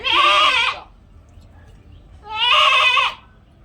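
A goat giving birth lets out two loud, drawn-out bleats close by, each about three-quarters of a second, separated by a short quiet pause.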